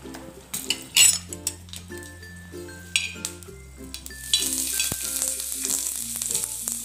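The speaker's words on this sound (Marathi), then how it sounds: "थोडंसं तेल टाकू। आता हे मिरच्या आहे, थोडेसे भाजून घेते।" Green chilies roast in hot oil in a pan, a soft sizzle beneath sharp metallic clinks and scrapes of a spatula against the pan, close and fairly quiet, with no voices.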